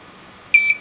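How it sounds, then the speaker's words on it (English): A short electronic buzzer tone from a DIY metal detector pinpointer sounds clearly, a steady high-pitched beep lasting about a quarter second with a slight pulse near its end. "There, and the buzzer sounds."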